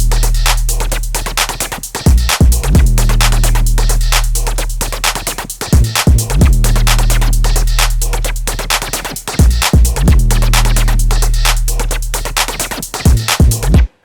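A looping music beat runs for eight bars with a steady pulse of punchy hits over sustained low bass tones, loud and continuous, with small changes between the first and second halves.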